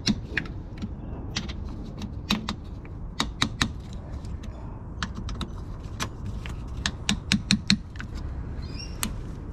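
Metal bolts are done up on the filter housing lid of a Toyota 70 series during a 10,000 km service, giving a run of sharp, close metallic clicks and clinks with short irregular pauses over a low background.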